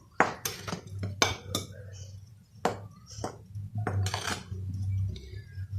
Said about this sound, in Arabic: غادي نخلط مزيان هاد النواشف